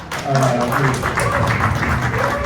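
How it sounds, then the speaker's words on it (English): Audience at a political party summer fundraiser applauds steadily in a dense, continuous wash of clapping, with a voice talking over it throughout. "Because all of you clap, we should clap."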